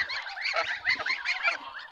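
Domestic ducks let out onto grass give a steady run of nasal honking and quacking calls, several birds overlapping close by, with no talk over them.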